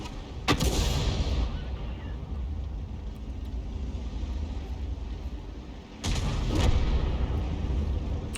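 Heavy artillery rounds from a Conqueror gun carriage in a sandbox war game: two loud, close cannon blasts a few seconds apart, each a sharp crack rolling into a long boom, over a steady rumbling background.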